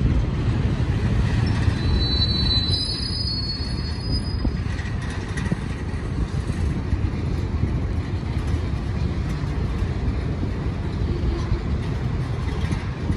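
A freight train with a DPU locomotive rolls past close by on railroad tracks, a loud continuous rumble of wheels and cars with brief high wheel squeals early on.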